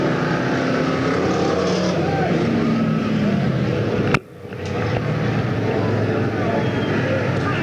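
Loud, continuous roar of race cars at a weekly racing series in Watsonville, California, sweeping past on the track with a sudden sharp drop mid-pass, heard without talk.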